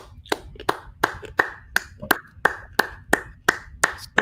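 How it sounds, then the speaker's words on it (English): Hands clap alone in a steady run of about a dozen sharp, evenly spaced claps, close and fairly loud, with no talking. "I feel like I need to applaud."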